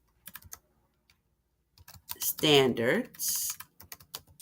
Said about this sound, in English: I'm going to type in Common Core